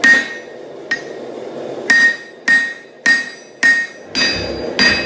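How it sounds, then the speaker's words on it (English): A hammer strikes hot steel on the horn of an anvil while a Dane axe is being forged. About eight loud, ringing blows fall at a steady, unhurried pace, with a sustained metallic ring between strikes and no talk. "I'm just using my straight beam in conjunction with the horn of the anvil, working on getting that metal pulled out."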